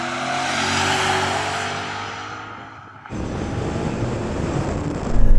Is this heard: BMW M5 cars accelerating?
yes